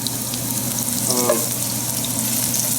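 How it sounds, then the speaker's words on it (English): Mushrooms fry in a little oil in a pan, a steady close sizzle with a brief tonal clink partway through. "we'll fry the mushrooms in batches so that, you know, it doesn't overcrowd"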